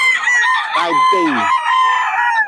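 Roosters crow with long drawn-out calls while hens cluck among a flock of fowl at close range, a voice speaking briefly over the birds.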